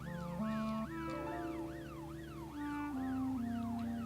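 Ambulance siren from the police-management game This Is The Police, a steady wailing rise-and-fall sweep repeating about every half second over a low droning hum, loud and continuous with no talking.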